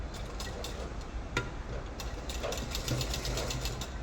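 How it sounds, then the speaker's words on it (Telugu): A sewing machine stitches lining to the main cloth, a steady mechanical whir with faint rapid ticking over a constant hum, heard close with no talking. "ఇప్పుడు కుట్టే కుట్టు ఇంపార్టెంట్."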